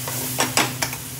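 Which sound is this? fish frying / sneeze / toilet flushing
fish frying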